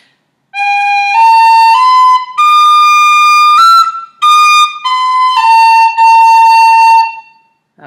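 The Irish tune Scatter the Mud, its first two sections joined, played as a clear, loud, solo whistle-like melody in bright sustained phrases with brief breaths between them.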